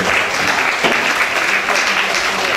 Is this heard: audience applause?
yes